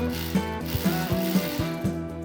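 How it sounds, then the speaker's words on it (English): An electric ratchet spins out the caliper bracket bolts on a 2019–2025 Mazda 3 during a front brake job, a steady close whir broken by repeated clicking pulses roughly every half second. "Once we break it free, we can use an electric tool to screw it off."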